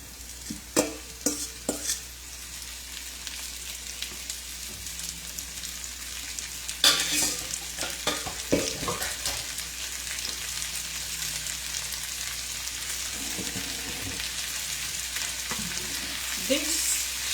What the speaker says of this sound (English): We're going to now add this to our onions and garlic that is already cooking up on the stove.